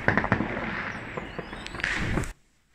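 Dense crackling fireworks explosions pop and thump continuously at a distance, then cut off abruptly into near silence.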